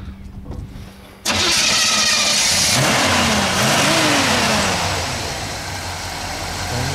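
A 1956 Chevrolet 210 six-passenger wagon engine cranks briefly, catches and fires, then settles into a loud, steady run with a couple of revs before easing toward idle.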